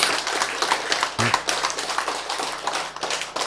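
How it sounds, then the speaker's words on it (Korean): An audience claps in quick, lively bursts at a talk, loud and close, with a brief voice near the start. "박수! 박수!"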